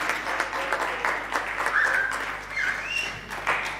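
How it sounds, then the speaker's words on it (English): Audience at a Centre of Excellence launch colloquium gives applause for a team, a full burst of many hands clapping with a few whistles or cheers mixed in, fairly close and loud throughout. "I would like to invite the audience, a huge applause for team number 4"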